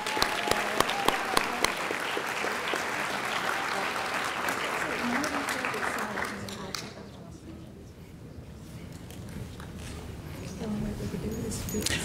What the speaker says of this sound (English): let's give a round of applause to all of our special award winners